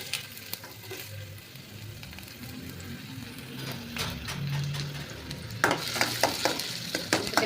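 Chopped onions fry in two spoons of oil in a pan on a gas stove for tempering, with soft steady sizzling and intermittent stirring scrapes that grow louder toward the end.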